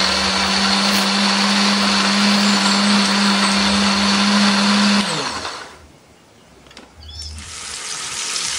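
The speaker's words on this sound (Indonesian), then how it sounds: "Tambahkan bawang merah, bawang putih, kita blender." A blender grinding chili, shallots and garlic whirs loudly and steadily for about five seconds, then cuts off, leaving a quiet pause before a faint clatter and rising background noise.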